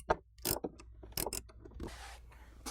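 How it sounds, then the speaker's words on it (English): A wrench loosens a bolt on the air box of a 2007-11 Toyota Tundra 5.7L, giving quiet, separate metallic clicks and ratcheting scrapes in short bursts, with a soft rustle near the end. "go on to the other side of the air box and loosen that bolt up"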